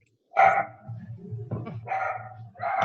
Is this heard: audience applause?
no